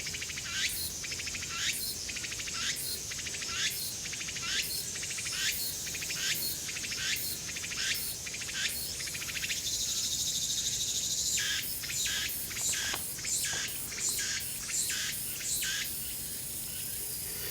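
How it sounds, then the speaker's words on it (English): Insects buzz and pulse in regular bursts against a constant shrill drone, cicadas singing outdoors on a late-summer mountain hike in forest, with faint bird chirps in the background. "It's a kind of cicada, I know that much."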